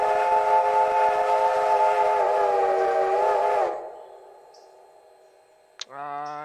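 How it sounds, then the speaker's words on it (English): A 618's desert 5 chime steam train whistle from a Railroader game mod sounds one long, loud, close blast for nearly four seconds, then a quiet tail, a click and the start of another whistle. "618's desert 5 chime."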